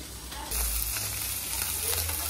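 Fish sizzles and crackles steadily in a hot pan of oil, a continuous close frying hiss with no talking.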